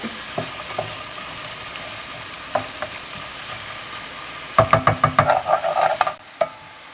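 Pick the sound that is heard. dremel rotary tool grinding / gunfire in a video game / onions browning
onions browning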